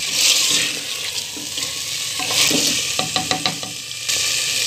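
Chicken and peas stirred in a hot pan for chicken matar: a continuous frying sizzle with wet, watery texture, overlaid by a few quick clinks and scrapes of a spoon in the middle.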